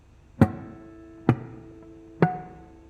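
Three short percussive funk strums on muted guitar strings 4, 5 and 6, evenly spaced, each a dull choppy thunk that quickly dies away, played alone and close.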